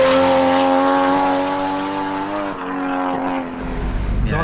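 A 500 hp 1JZ-swapped Nissan S15 Spec R with a straight-through exhaust and no silencers drones loudly with a steady, harmonic-rich engine note, then the revs dip and shift before rising again near the end.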